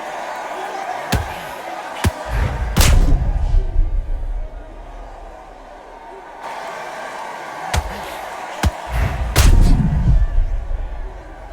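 Heavy boxing punches land in Wladimir Klitschko's knockdown of Butterbean, sharp isolated thuds and slams, several spaced apart, over a steady murmuring arena crowd.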